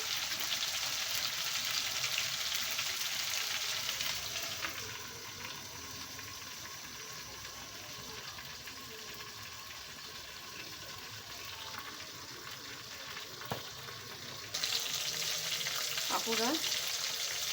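Four chicken pieces grill in a covered pan over medium heat with a steady frying sizzle. The sizzle dips quieter through the middle and grows louder again near the end, and a brief voice is heard.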